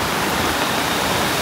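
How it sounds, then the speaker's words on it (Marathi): Heavy monsoon rain and rushing floodwater near Gadeshwar Dam, a loud, dense, unbroken roar of water that stays steady throughout with no voices. "आज जोरदार मुसळधार पाऊस चालू आहे ना, तर त्यामुळे इकडे खूप पाणी आलंय"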